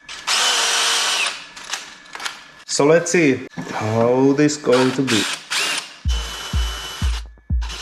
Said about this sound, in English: I'm going to pre-drill 3 millimeter holes.